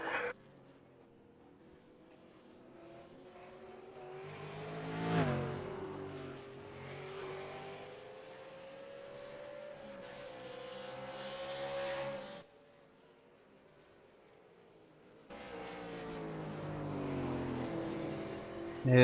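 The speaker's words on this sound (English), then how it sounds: "It's now back to the stage of just cars getting lapped." Race cars lapping a circuit in a racing video game, a steady engine drone that swells as cars pass, drops out briefly, then returns, heard alone without commentary.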